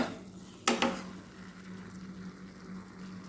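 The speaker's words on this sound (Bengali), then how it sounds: "দিয়ে দেব ভেজে রাখা আলুগুলো খুব ভালোভাবে নাড়াচাড়া করে নেব" Fried potatoes are stirred into a thick banana flower and chana dal curry in a pot. One sharp clink of a utensil against the pot is followed by a soft, faint simmer and a low sizzle.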